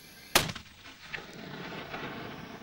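A single sharp, loud mortar shot rings out near the start, then a long rumbling echo decays over the next couple of seconds.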